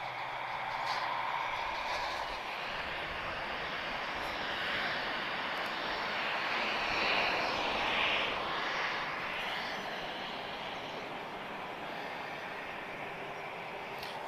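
A TAP Airbus A320-214 at Lisbon Airport produces a steady, broad engine roar that holds at an even level and swells slightly midway, heard alone without speech.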